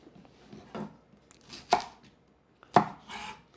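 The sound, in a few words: knife finely chopping shallots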